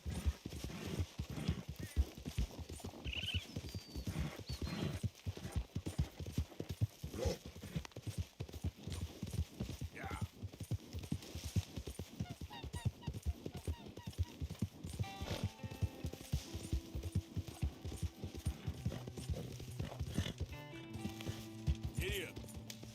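Horse hooves gallop in the video game Red Dead Redemption 2, a steady rapid clip-clop that runs throughout under game music and a talking voice.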